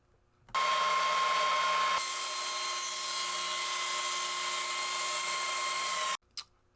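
A router fitted with a 45-degree tapered bit spins up and cuts a wooden board at a router table, a loud steady high-pitched whine that holds for several seconds, then cuts off abruptly with a brief knock afterward.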